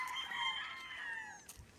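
Chickens cluck and a rooster crows, several birds calling over one another at moderate distance with no talking.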